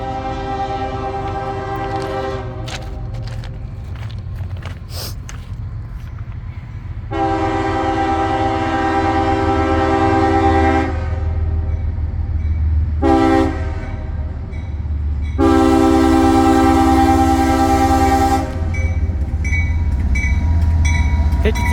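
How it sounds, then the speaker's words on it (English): CSX freight trains meeting, one an empty grain train, with a steady heavy rumble of rolling cars and a loud, near diesel horn sounding three long blasts over it. "We have the CSX coming and it should be meeting a northbound here momentarily."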